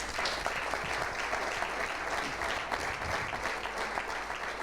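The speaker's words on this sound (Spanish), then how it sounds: "Por eso pido un fuerte aplauso." Sustained applause from the audience at a tribute event in Puerto de la Cruz, a dense, even roar of many hands clapping that holds at steady loudness from start to finish, with no voices over it.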